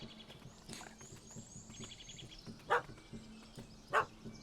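A dog barks twice in the Dead Mans Party DLC of a video game, two short, fairly loud woofs about a second apart over faint ambient game sound and bird chirps.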